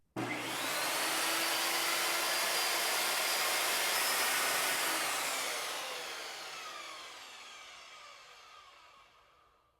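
Skil TS6308-00 compact table saw motor spinning up loud and steady with a broad whine, hooked to a Harbor Freight dust collector, then coasting down slowly with no brake over the last few seconds.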